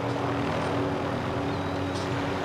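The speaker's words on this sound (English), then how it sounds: "I'm getting that helicopter." A helicopter in a Call of Duty match drones with a steady, loud rotor and engine hum close by, unbroken throughout with no talk over it.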